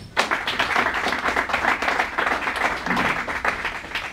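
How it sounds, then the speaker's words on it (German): A crowd at an ice hockey press event after EHC Bayreuth played ERC Sonthofen gives loud, dense applause for the visiting team, sustained and close throughout. "Bitte Applaus für die Gäste."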